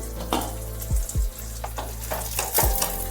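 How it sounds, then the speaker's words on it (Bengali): Eggplant pieces frying in a pan on a gas flame, a close hissing sizzle with a few scraping strokes and a low steady hum underneath. "বেগুনগুলো কিন্তু একটু ভাজা হয়ে গেছে"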